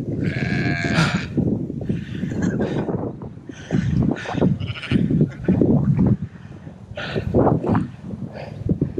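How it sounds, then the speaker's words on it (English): Several sheep bleat repeatedly on a farm, some reluctant to go in while sheepdogs work them, the calls loud and close, mixed with shouts and talk from people herding them. "There's four sheep that refuse to go in"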